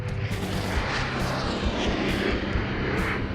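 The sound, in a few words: military test airplane flying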